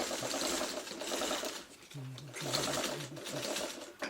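A sewing machine stitches a small fabric square for a mini autumn leaves quilt block, its steady mechanical whir running continuously beneath a voice speaking.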